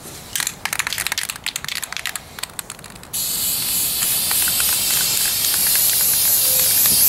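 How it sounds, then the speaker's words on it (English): A few short crinkling bursts, then a can of brown indoor-outdoor spray paint hisses in one long, steady, loud stream up close on wooden furniture. "I have just a brown indoor-outdoor spray paint."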